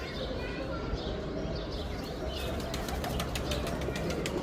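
Field pigeons flapping their wings in quick repeated bursts close by, with faint bird calls and someone talking throughout.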